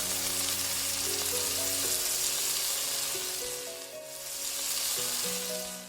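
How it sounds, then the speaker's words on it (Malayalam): Marinated chicken with masala dropped into hot oil in a pan, giving a loud, dense, continuous sizzle that dips briefly and then swells again, close and uninterrupted by voices. "ഇനി ഒരു പാനിൽ ഓയിൽ ചൂടാക്കിയതിന് ശേഷം നേരത്തെ മാരിനേഷൻ വെച്ച ചിക്കൻ മസാലയോട് കൂടി തന്നെ ഓയിലിലേക്ക് ഇട്ട്"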